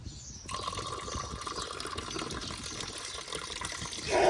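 A glass being filled with water, a steady rushing pour that runs evenly for about four seconds, close by and fairly quiet, swelling a little louder at the very end.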